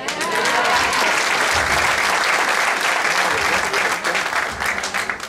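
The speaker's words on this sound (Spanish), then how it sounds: "Pónganse felices, un aplauso." An audience at a Lions International programme presentation bursts into applause, a loud, dense wash of clapping from many people that holds steady and then thins slightly toward the end.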